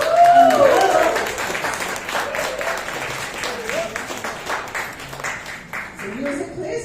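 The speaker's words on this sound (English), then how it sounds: "Let's give them a round of applause" Audience applause at a confidence-themed catwalk show, a dense wash of clapping that swells at the start and carries on steadily beneath speech and some music-like tones.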